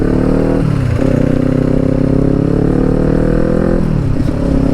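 Kawasaki Ninja 400 motorcycle fitted with a loud Akrapovic exhaust, its engine droning steadily and loudly up close, with a couple of brief rev dips and pickups throughout.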